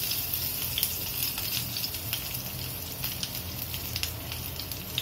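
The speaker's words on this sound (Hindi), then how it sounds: "इसमें मैं थोड़ा लहसुन डालूंगी" Garlic sizzles in hot oil in a frying pan, a steady, dense crackle with fine pops scattered across it. No one speaks over it.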